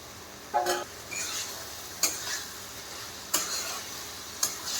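Spice paste being stirred and fried with fried potatoes in a pan for a Bengali chana dal with luchi, giving a steady soft sizzle broken by four sharp scraping stirs, close and moderately loud, with no talk.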